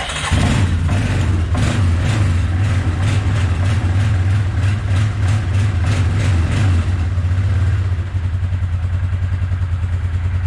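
A snow plowing truck engine idles after the choke is used, a loud close steady rumble with a slightly uneven pulsing beat that settles near the end.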